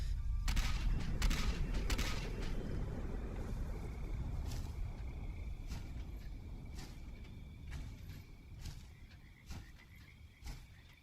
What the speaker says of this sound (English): You can actually watch the missile. Watch when I shoot it.